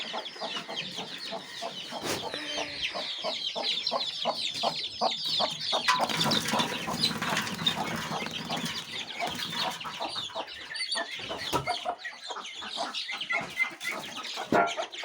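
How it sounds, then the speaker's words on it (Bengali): Large ducks crowd together to eat scattered rice, giving a dense, close chorus of rapid quacks and clucking calls, with occasional wing flaps. "এই যে এখন বড় হাঁসগুলো এসে গেছে চাল খেতে।"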